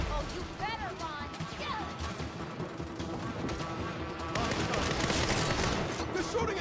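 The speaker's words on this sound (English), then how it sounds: "They're shooting at us!" Gunfire in the Saints Row reboot on PS4, scattered shots and bursts popping at mid distance beneath excited in-game voices, growing louder and denser toward the end.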